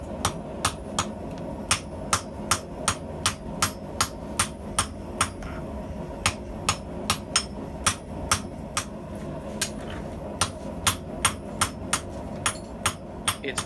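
Steady metallic hammer blows on copper, struck in a brisk, even rhythm with occasional quick doubles, close and fairly loud over a low background hum.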